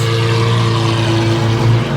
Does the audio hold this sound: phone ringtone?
no